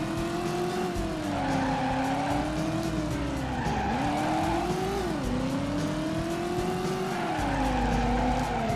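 Heavy car with soft, floaty suspension driving and skidding in the PlayStation game Driver, steady engine drone with pitch rising and falling as it slaloms and corners, tire squeal running continuously and loud throughout.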